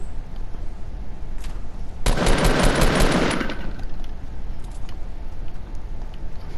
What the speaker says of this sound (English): Oh, they're firing at us.